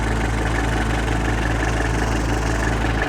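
GAZ Volga car engine idling steadily, a loud, close, continuous low rumble with a slight rough vibration and no pauses.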